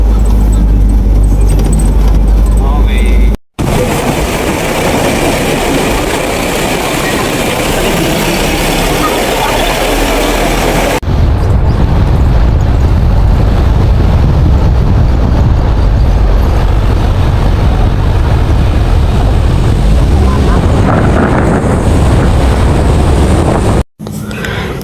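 A motorcycle engine drones steadily throughout a ride, with heavy wind and road rumble close to the mic, and a voice speaks once briefly.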